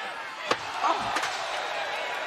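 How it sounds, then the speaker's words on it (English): A steel chair strikes a wrestler's back during a TNA iMPACT! match, giving a single sharp slam that cuts through a loud, constant arena crowd roar, with a couple of smaller impacts after it. "Jarrett just waffled Sting across the back with the steel chair."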